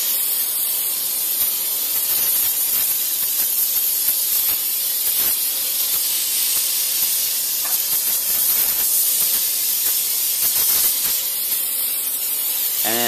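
An aerosol can of engine cleaner hisses steadily over a car engine bay, a long, loud, close spray with small breaks and bursts as the nozzle moves around.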